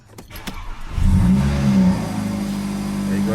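A Mercedes AMG car engine starts up after a few faint clicks, cranking into a loud rising rev that settles into a steady idle, recorded close by.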